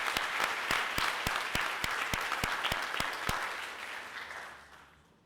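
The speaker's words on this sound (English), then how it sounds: "Let's give them a round of applause as well." An audience applauds at a high school Celebration of Excellence, a dense, steady wash of clapping with a few sharp nearby claps, fading away toward the end.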